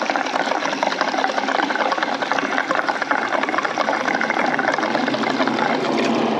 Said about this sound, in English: So I'm pouring the gas in right now.